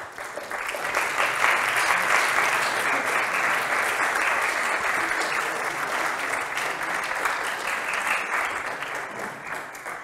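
Audience applause at the close of a French-language science lecture on ocean storms that make the Earth vibrate, with dense, steady clapping filling the room for the full ten seconds and no voices over it.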